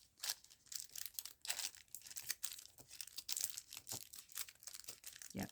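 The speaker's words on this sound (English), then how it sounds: "Yep, this is a good scrunchy tissue. Scrunches up nicely." Textured, waxy-feeling tissue paper scrunched by hand against card, giving a steady run of close, crisp crinkles and rustles with brief louder crunches, no talking.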